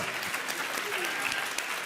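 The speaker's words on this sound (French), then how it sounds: "Je voudrais qu'on applaudisse la dame" Studio audience applauding a contestant on the French game show Les 12 Coups de Midi, a steady dense patter of clapping with no voices over it.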